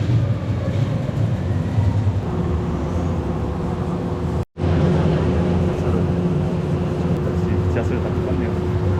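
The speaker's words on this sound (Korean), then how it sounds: "지하철 타고 가겠습니다." Subway train ride in Mexico: a steady, loud rumble of the carriage in motion with a continuous hum, briefly cutting out for an instant midway, then resuming just as heavy.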